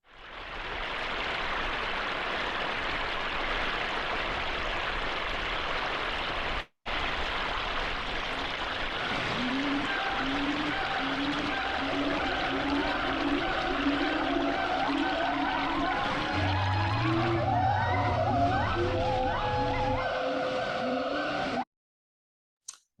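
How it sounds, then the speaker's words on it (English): AI-generated soundscape of a Thailand waterfall: a steady rushing water roar fills the scene, briefly cut by a gap, with tonal layers and faint other sounds emerging in the later part before it stops. "if I ask for a waterfall in Thailand,"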